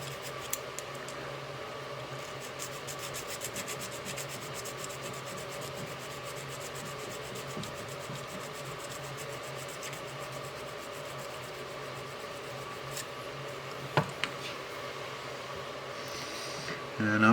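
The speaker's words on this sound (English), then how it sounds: "I'm just filing off the high points so our drop target will drop properly" A file scraping the high points off an old pinball drop target contact board from a Williams Scorpion machine, giving faint steady rubbing and rasping strokes under a quiet background hum with brief clicks.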